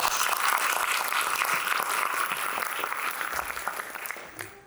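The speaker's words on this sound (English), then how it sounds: "Let's give them a big round of applause." An audience at the opening ceremony of an invention competition applauds the inventors, a loud, continuous roar of clapping that gradually thins and fades toward the end.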